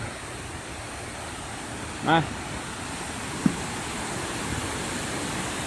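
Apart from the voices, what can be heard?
Tad Kuang Si waterfall in Laos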